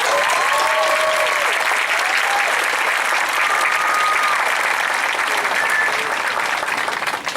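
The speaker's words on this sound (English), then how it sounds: "you deserve a special round of applause." A graduation ceremony audience gives a long, loud, steady round of applause, with a few cheers and whistles rising over the dense clapping of a large crowd.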